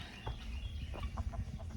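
A rooster clucks softly in short bursts, faint and somewhat distant over a steady low background hum, on a homestead with hens.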